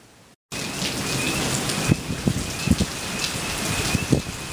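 Steady rain falls alone for several seconds as a dense, even patter, with a few heavier drops striking a nearby surface.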